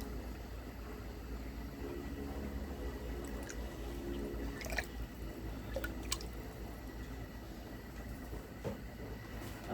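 Twelve measured spoonfuls of fish sauce go into a pot for Thai chicken boiled in fish sauce, making a steady liquid pour with a few drips over low continuous kitchen noise. No one speaks.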